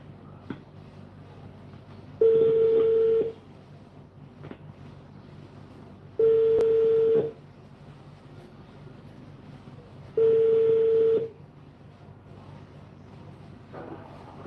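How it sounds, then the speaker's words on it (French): A telephone line gives three evenly spaced single-tone beeps about four seconds apart while a call is being redialed, each lasting around a second over quiet background hiss. "Je rappelle encore."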